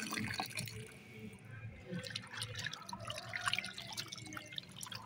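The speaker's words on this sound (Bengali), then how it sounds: "লাউ খোসাগুলো এখন ভালো করে ধুয়ে নিই।" Bottle gourd peels being rinsed in water, faint close dripping and splashing with soft handling clatter, quiet and continuous throughout.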